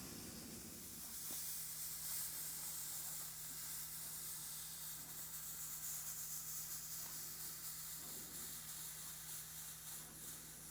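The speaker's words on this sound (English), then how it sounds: "essentially this is just melting the foam away" A hot wire cutter melts through foam while building model railroad scenery, giving a steady soft hiss with a faint constant hum throughout, close and even, with no talking.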